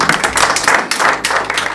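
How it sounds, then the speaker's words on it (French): Audience applause at a club presentation event in Paris, a dense burst of clapping that stays steady and fairly loud for under two seconds with no talk. "je pense que ça mérite quelques applaudissements pour Patrick"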